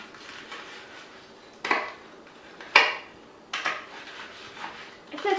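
Knife chopping cooked bacon pieces on a board: a handful of sharp, separate knocks and clacks spaced a second or so apart, close and fairly quiet, with nobody talking.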